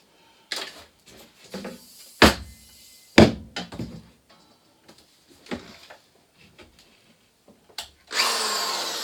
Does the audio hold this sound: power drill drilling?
yes